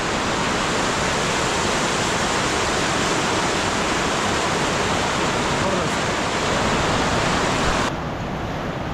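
A loud, constant rush of a nearby tall waterfall in the Konkan region, beside the Mumbai–Goa highway, fills the air, easing slightly just before the end.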